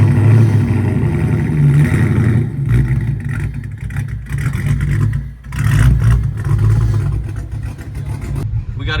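Dodge Challenger or Charger Hellcat fitted with a choppy aftermarket cam, running loud and close with a lumpy, uneven idle and repeated throttle blips rising and falling, with some voices underneath.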